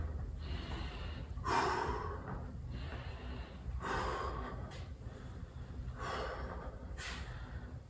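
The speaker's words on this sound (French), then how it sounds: "J'inspire, je souffle." Breathing in and out during a squat exercise set, close to the microphone: a run of sharp, forceful breaths at a steady pace, each one a short burst.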